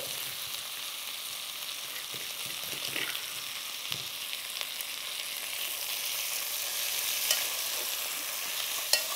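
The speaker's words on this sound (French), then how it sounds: "On mélange et on mélange bien." A utensil stirs crushed spices through chicken and cassava curry in a sizzling pot, a close, continuous frying hiss broken by soft scrapes and a few light knocks, with no voices.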